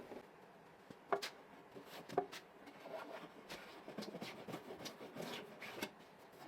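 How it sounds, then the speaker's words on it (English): Hand plane shaving the front edges of a wooden cabinet, quiet rasping strokes with a couple of sharper scrapes, close and soft with no voices. "The front edges needed a little hand planing, but that was done quickly and quietly."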